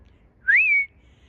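A single short, clear whistle, rising then gently falling, comes from a person calling a cat indoors, heard alone against near silence.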